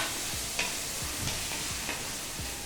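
Prawn chilli masala, made with freshly ground spice paste, fries in a pan with a dense, continuous sizzle, while a spatula scrapes at a steady rhythm, roughly every half second, close up and without speech.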